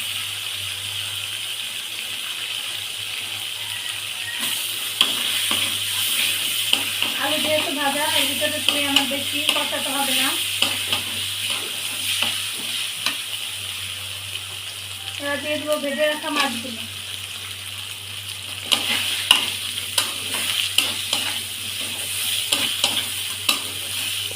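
Fried potatoes stirred into sizzling cooked spice masala for a shing fish curry with bori, a loud steady sizzle with repeated scraping stirs, and a voice speaking in short bursts over it.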